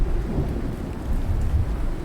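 Steady heavy rain with deep rolling thunder during a thunderstorm in the survival game Icarus, set in a forest; a continuous low rumble and hiss, loud and close, with no voices.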